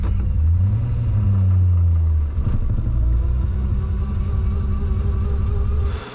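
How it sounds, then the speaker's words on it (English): A car with a stock bottom-end engine and a PPG six-speed sequential gearbox drives along the road, its loud, close engine rumbling steadily with a rising rev early on and shifting tone throughout. "I'm driving home."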